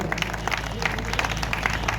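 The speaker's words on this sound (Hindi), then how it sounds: "जोरदार ताली से स्वागत करें।" An audience at a poetry festival claps to welcome a visiting poet, with moderately loud, continuous applause that stays fairly even, while a voice may be faintly mixed in.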